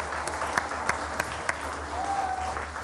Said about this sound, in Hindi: इनके लिए भी बहुत सारी तालियां, बहुत सारी तालियां